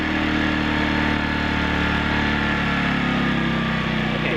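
A portable generator engine idles steadily while warming up, a loud, continuous mid-pitched drone with a faint hum and even vibration, no talking.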